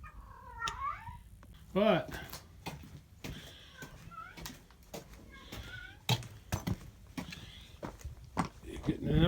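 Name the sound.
cat meowing, calling while in heat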